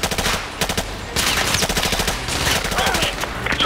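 Loud bursts of automatic gunfire in Call of Duty: Modern Warfare 2 Remastered, rapid rattling shots in close succession with a brief gap before firing resumes.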